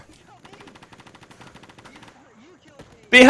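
Rapid bursts of automatic gunfire crackle through a video game shootout, a fast repeating volley that pauses and ends in a sudden loud blast.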